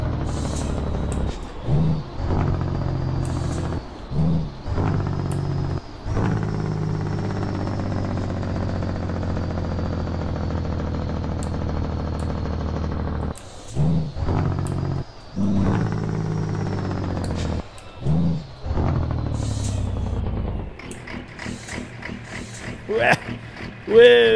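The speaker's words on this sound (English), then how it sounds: "All right, Jake brakes." A Peterbilt 389 truck in American Truck Simulator rumbles loudly with its Jake brake engaged, a deep mechanical roar that cuts out and returns in repeated bursts, ending in a faster rattling stutter.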